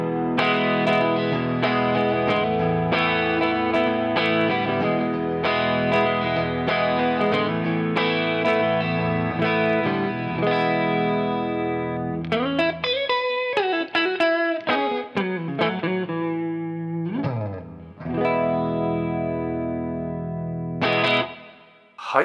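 An electric guitar played through heavy distortion with a thick 1.5 mm Dunlop Flow pick rings out loud and sustained in chords and riffs, followed by quicker choppy phrases and pauses, with no speech over it.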